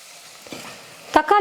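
Tomatoes tip into onions frying in oil for a vegetarian sambar lunch, with a short sizzling burst and a quick stir near the end after a quieter stretch of low pan noise.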